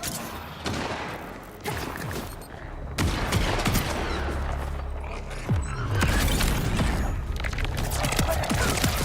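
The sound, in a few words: gunfire from sniping in video game Borderlands 4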